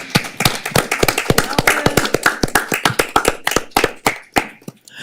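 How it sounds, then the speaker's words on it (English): Audience at a city rent control board meeting claps for a departing board secretary, a few dozen sharp, uneven hand claps close by, fairly loud, with no talk over them. "We must applaud you"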